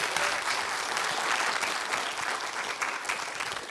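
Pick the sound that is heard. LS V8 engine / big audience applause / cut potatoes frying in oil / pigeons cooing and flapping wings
big audience applause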